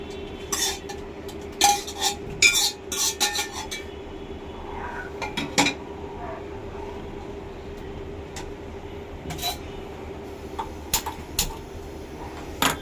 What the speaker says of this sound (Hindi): अब मैं इसमें ऐड कर लूँगी दाल जो मैंने बॉईल कर ली हुई है।